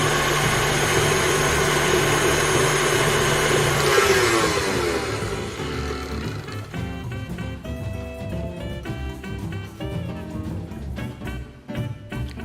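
An electric mixer beats banana bread batter after an egg and vanilla extract go in, a loud steady whirring drone that runs throughout, shifting in tone midway and carrying on without pause.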